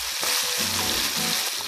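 Chicken sears in oil in a pan, a dense close sizzle with a low bubbling undertone and brief dips, no voices.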